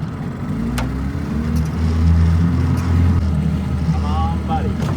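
A worn boat outboard motor that needs rebuilding runs out on the Tennessee River, a loud close rumbling drone with splashing water on top and voices nearby.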